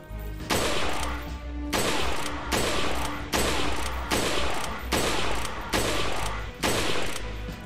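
Gunfire from the video game Resident Evil 4 comes in eight loud, evenly spaced shots, each a sharp blast followed by a short decaying tail, repeating roughly once per second.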